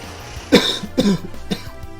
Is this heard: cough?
yes